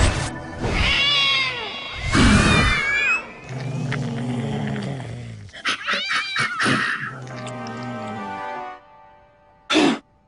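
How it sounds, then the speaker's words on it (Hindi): A cat meows repeatedly up close, with drawn-out, wavering cries and strained, rising calls, then a pause and one last short meow. "अरे ये भाभी जी की बिल्ली पुसी यहाँ क्या कर रही है?"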